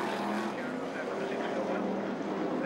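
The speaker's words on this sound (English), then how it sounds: "Listen to those engines roar." Stock car engines roar continuously at Northampton International Raceway, a steady loud drone of racing cars passing through the turns without pause.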